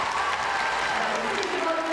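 Steady crowd applause fills the arena at the 2022 World Gymnastics Championships women's all-around final, with a commentator talking over the clapping throughout.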